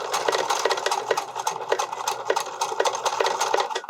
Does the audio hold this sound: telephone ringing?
no